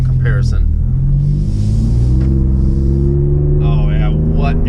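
A 2019 second-generation Ford Raptor with its catalytic converters removed drives along, its engine and exhaust giving a loud, deep, steady rumble. Someone talks over the sound.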